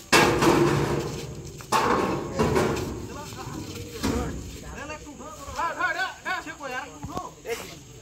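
A heavy 300 kg biryani rice roaster machine is loaded for delivery, with loud knocks, bangs and clanks of metal and wood, then a busier stretch of scraping and shouting voices near the end.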